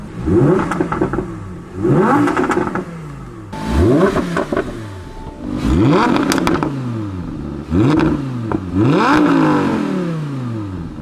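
An Audi R8 V10 Plus engine revs hard again and again, each rise in pitch falling back between bursts, loud and close with a crackling exhaust.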